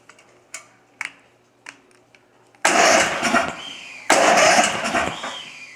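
A lawn mower engine, newly rewired with a key ignition, cranks over in two strong bursts after a few faint clicks from the switch. Each burst lasts about a second, close and loud, and the engine does not start.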